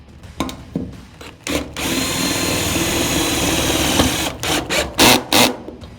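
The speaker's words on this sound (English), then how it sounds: "I've got all these holes drilled for plug welding, but I'm actually going to stitch weld as well." Stitch welding on the main floor of a 1989 Classic Mini during restoration, a long steady crackling buzz with short sharp bursts before and after, loud and close.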